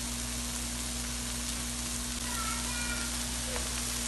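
Bottle gourd greens go into a pan of hot cooking masoor lentils, giving a steady, close sizzling hiss with a faint low hum underneath and no talk.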